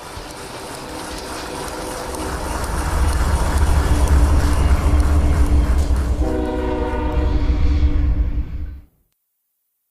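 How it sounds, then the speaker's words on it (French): A passenger train in Uzbek flag colours of blue, white and green exits the Kamchik tunnel, a loud rumbling roar building as it approaches, then a sustained whistle sounding over the rolling noise before the sound cuts off abruptly. "un train aux couleurs du drapeau national de l'Ouzbékistan, bleu, blanc et vert, sortait du tunnel en sifflant"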